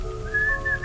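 A single person whistles a short, clear, slightly wavering note that rises briefly, heard close and alone.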